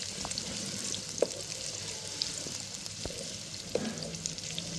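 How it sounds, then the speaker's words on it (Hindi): Onions frying in hot ghee for a spiced arvi curry, a constant close sizzle with a few sharp pops and spatula taps scattered through it, no talking. "जब घी गर्म हो जाए तो फिर उसके अंदर सबसे पहले प्याज डाल दें। इनको अच्छी तरह से ब्राउन करना है।"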